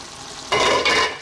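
Chicken and basil get stirred into fresh tomato sauce in a pan, two short wet scraping swishes close by with no voices.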